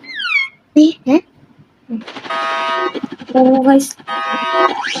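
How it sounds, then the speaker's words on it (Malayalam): A rising-and-falling electronic alarm tone with harmonic wails, mixed with bursts of speech or cartoonish voices, fairly loud and close. "അലാറം വന്നിട്ടുണ്ട്,"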